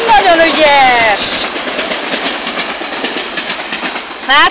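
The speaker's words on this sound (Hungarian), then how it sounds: "Látod, mellettünk meg a vonat haladt éppen át a sineken." An Intercity train passing close by at Balatonalmádi, a loud, sustained rushing rumble with rapid wheel clatter, while voices talk over it at the start and end.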